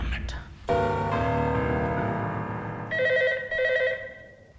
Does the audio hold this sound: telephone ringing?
yes